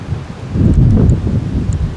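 Strong wind buffeting a microphone outdoors on public land in Iowa, a steady low roar that swells in the middle and then eases, with no voices.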